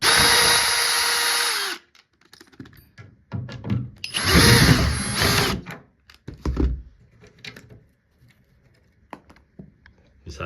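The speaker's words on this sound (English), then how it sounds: "So I'm going to take these screws out," Power drill whirring in several short bursts, close and loud, backing screws out of a loose door hinge, with brief clicks and handling noises and quiet gaps between the runs.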